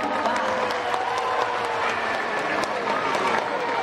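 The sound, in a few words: audience applause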